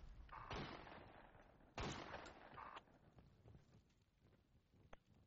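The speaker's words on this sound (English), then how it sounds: "That's an enemy insurgent shooting a shotgun out there." An enemy insurgent fires a shotgun in a first-person military video game: two loud, sharp blasts about a second apart, each with a short echoing tail, followed by quieter distant pops.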